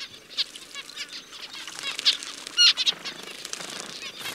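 Zebra finches bathing, wings flapping in quick fluttering bursts with splashing, close and lively, with a few tiny chirps mixed in.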